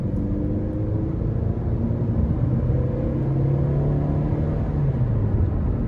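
A 2008 Toyota Camry SE with a 5-speed automatic and 188,000 miles accelerating, its engine rumbling steadily from inside the cabin as the pitch climbs gradually, loud and continuous.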